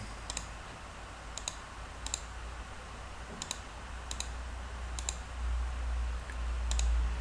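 A computer mouse clicks sharply and at a steady pace, about nine separate clicks spread over several seconds against a low hum.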